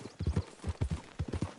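Hooves of a ridden horse clip-clop in Red Dead Redemption 2, a close, rhythmic run of distinct strikes in small clusters, heard alone with no talking.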